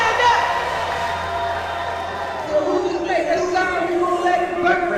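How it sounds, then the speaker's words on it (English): Big evening crowd at a Saturday night boxing event in DC murmurs and cheers steadily in the background beneath a commentator's talk, swelling slightly partway through. "Big crowd this evening in DC on a Saturday night."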